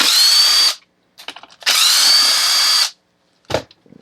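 A power drill backs fasteners out of an old Stihl 021 chainsaw. Two loud, close bursts of high motor whine are separated by light metallic clatter and tool handling, and a short thump comes at the end.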